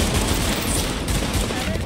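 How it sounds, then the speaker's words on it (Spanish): Enemies open fire in The Division, a dense rattle of rapid automatic gunshots that carries on throughout the short burst. "me están disparando"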